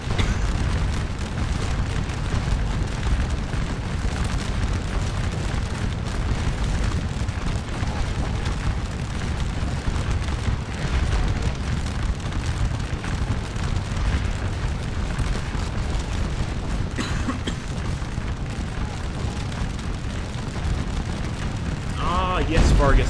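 A constant roar of musket volleys and cannon fire rumbles through a Napoleonic battle at Waterloo in a strategy game, dense and unbroken throughout, with a voice talking over it at times.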